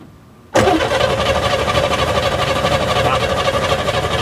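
A car engine on a road rallye car cranks steadily and continuously with a fast, even churning rhythm, loud and close, and never catches or starts.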